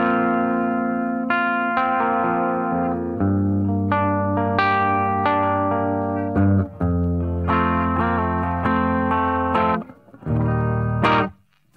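An electric guitar through a TC Electronic Corona Chorus pedal, turned all the way up, plays sustained chords and single notes with a shimmering, wavering chorus effect, clean and up close, ending in a brief pause.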